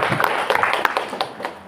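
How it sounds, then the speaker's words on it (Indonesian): Audience applause at a school gathering in Sintang, West Kalimantan, a dense burst of many hands clapping at close range that holds steady for the short span with no voices on top. "tepuk tangan dulu Bapak Ibu"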